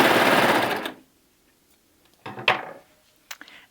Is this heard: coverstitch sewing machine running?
yes